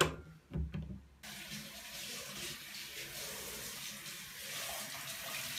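Tap water runs steadily into a bathroom sink, a continuous broadband rush held at an even level after a few brief knocks and bumps at the start.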